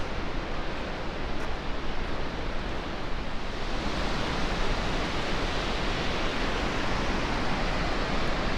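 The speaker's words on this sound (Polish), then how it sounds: "I oto tam już przed nami wodospad." A waterfall in a rocky gorge in the stone forest near Arequipa, Peru, pours with a loud, steady broadband roar of rushing water, close and constant with no voices.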